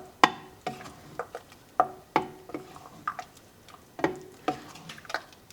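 A spoon stirs mango pachadi sauce in a dish, giving a steady series of close, light clinks and taps against the dish about every half second.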